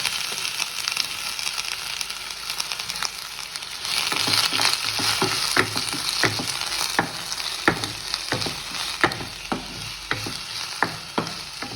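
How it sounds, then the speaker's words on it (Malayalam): Onions added to hot oil in a pan for chicken samosa filling, sizzling steadily up close while a spoon stirs them with repeated scraping clinks against the pan. "ഒരു പാൻ അടുപ്പിൽ വെച്ച് എണ്ണ ചൂടായിട്ടുണ്ട് ഇനി ഇതിലേക്ക് നമുക്ക് സവാള ചേർത്ത് കൊടുക്കാം"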